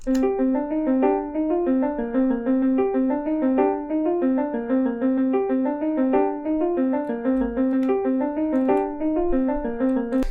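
An arpeggiated piano layer from a Detroit-style beat plays alone, a repeating pattern of bright rising and falling notes in a steady even rhythm, close and clear.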